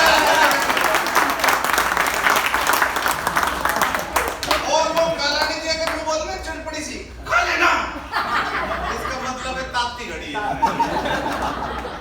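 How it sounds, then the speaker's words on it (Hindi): A live audience at a comedy laughter show breaks into loud, sustained applause with scattered chuckles. Clapping is strongest at the start, thins out midway, and swells again in bursts, all at close range. "तो जोरदार ताली बजाएं।"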